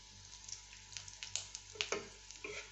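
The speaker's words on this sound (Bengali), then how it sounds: "একটু গোল্ডেন করে নেব ভেজে একটু লালচে হলে তারপরে নামাবো" A snack frying in a small amount of oil until golden, with soft crackling sizzle and scattered bubbling pops, moderately quiet and close, with no talk.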